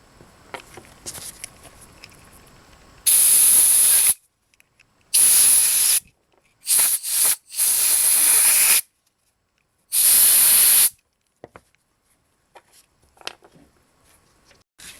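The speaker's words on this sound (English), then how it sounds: "You can spray some carb spray in there if you want." Five sharp hissing bursts of carburetor cleaner from a spray can, close by, on a SYM Wolf 150 carburetor, separated by short silences, with faint rustling in between.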